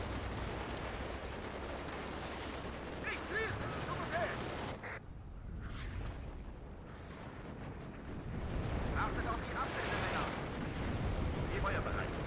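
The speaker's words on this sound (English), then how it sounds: "that was some sick artillery there" Artillery fire in a war video game, a dense rumbling barrage of booms and crackling blasts, fairly loud and sustained, with a brief lull partway through and faint voices underneath.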